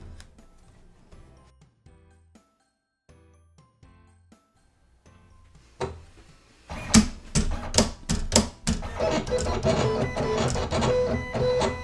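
A Silhouette Cameo 4 cutting machine works on a sheet of vinyl, starting with faint low motor steps in near silence, then loud rapid clicking and whirring carriage movement that runs steadily to the end.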